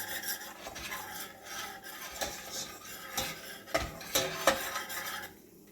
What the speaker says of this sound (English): Stir that in there and let that cook.